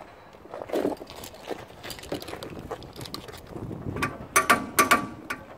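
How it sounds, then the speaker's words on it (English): A torque wrench clicks while tightening a bolt on the rear brake of a Citroen C4, giving a few short, sharp mechanical clicks near the end over a faint workshop background. "and it clicks, you know it's torqued."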